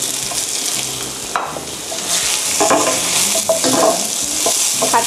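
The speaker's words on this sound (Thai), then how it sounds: "ผัดกุ้งให้สุก" Shrimp stir-fried in a hot pan with garlic for a fried rice with gravy dish, a steady loud sizzle broken by irregular scraping and stirring strokes of a utensil against the pan, close up and without talk.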